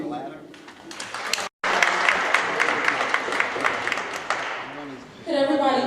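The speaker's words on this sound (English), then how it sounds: "Could everybody please again give a round of applause to our president, Gregory?" An audience at a Department of Education candidate forum claps in a full round, briefly cut to silence partway, then resumes before a speaker's voice returns at the end.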